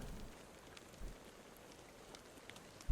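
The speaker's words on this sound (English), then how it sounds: "At least the rain sounds nice." Rain falls in a video game scene, a soft, steady patter of drops with faint scattered ticks, quiet and continuous, ending with a brief low thump.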